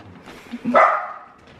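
One short, close dog bark rises as a single sharp yelp and fades quickly, with nothing else around it.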